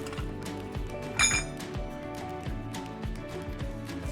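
Metal lid of a bag filter housing on a dual three-stage filter being tightened down, with quiet metallic clinks and scraping taps and one brighter ringing clink early on.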